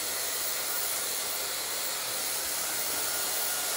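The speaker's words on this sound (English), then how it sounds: "I'm just gonna get a hairdryer. I'm gonna dry that off." A hair dryer blows steadily and close up while short cut hair is dried, a constant airy roar that stays level throughout with no voices.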